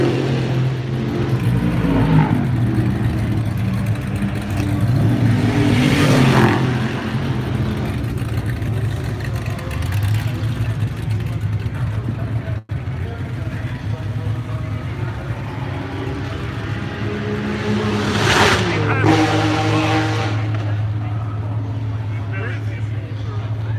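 Race cars idling and revving in the paddock holding area at Goodwood Revival before heading out to the track, engines rumbling steadily with louder bursts, under ongoing talk.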